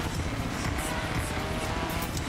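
A drifting car engine in a video game roars steadily in a dense, loud wash of noise, with no pauses or voices.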